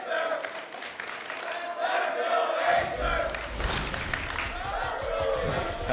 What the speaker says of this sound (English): the crowd here alive and well.